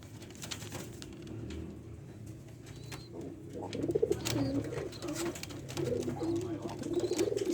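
Tippler pigeons coo softly in low, rolling calls close by, growing busier in the second half amid light rustling and faint background chirps.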